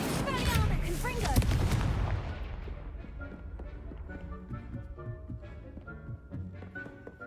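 Spell-casting effects from the Hogwarts Legacy video game: a dense cluster of loud magical blasts and crackles in the first two seconds, then fading into soft in-game music.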